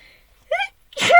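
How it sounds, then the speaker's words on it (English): An adult takes a quick breath in, then lets out a sharp, close sneeze into an arm in a quiet indoor room. "I feel like I have a sneeze coming on"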